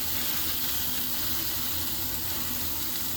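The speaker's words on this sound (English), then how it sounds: "I don't know if you can hear it. Sizzling." Steak sizzling in a hot pan, already salted, giving a steady, even hiss of frying with faint low crackle throughout, no voices.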